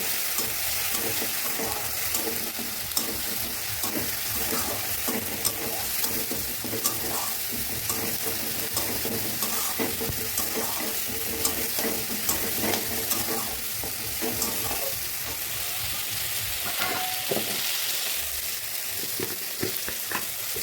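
Spices frying in a pan with fish-head mung dal, a constant sizzle beneath repeated scraping strokes of stirring, close and even throughout.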